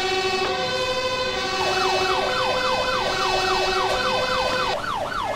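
A loud wailing emergency siren in the video game 911: First Responders, joined by a second rapid yelping siren sweeping up and down, with steady engine drone underneath.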